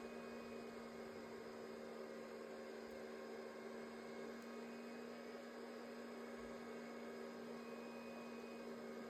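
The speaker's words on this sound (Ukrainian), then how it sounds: "Ну і плюс зараз на них ще дує вентилятор з інвертора." Inverter cooling fan blowing onto LiFePO4 batteries, a constant faint mechanical whir with a steady hum, unchanging throughout and with no talk.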